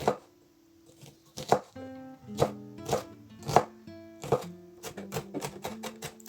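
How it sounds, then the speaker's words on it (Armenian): Half an onion being finely chopped with a knife on a board, a series of close, crisp taps that start sparse and grow faster and more regular toward the end, with a faint tonal hum underneath. "Մանր կտրատում եմ"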